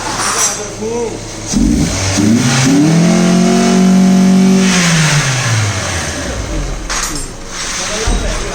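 Suzuki Baleno car engine revving up close, rising to a loud sustained roar then falling away over several seconds, with people talking nearby before and after.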